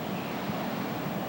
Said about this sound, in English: It's pretty good waves breaking in here